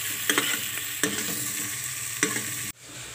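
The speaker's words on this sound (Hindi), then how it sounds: "तड़का लगना शुरू हो गया है" Steady close sizzling of spices frying in hot oil for a tadka for aloo gobi, with a few soft stirring scrapes, then the sizzle drops abruptly near the end.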